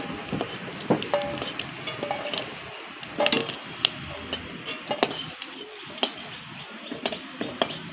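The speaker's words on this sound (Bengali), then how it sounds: "কড়াইটা না ঢকঢক করে নড়ছে" A metal kadai on a home stove rattles and clanks irregularly as it wobbles, with sharp knocks of utensils and faint sizzling of frying in the background; no talking.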